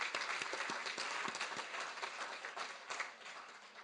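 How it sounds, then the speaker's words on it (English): Audience applause at an International Women's Day gathering, a faint, distant patter of many hands clapping with a few sharper individual claps standing out, steady throughout. "So they deserve a round of applause."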